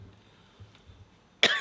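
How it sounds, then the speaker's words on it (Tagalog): A single sharp cough bursts out near the end after quiet room murmur at a Malacañan Palace media interview, loud and close. "Basta ganun na ubo"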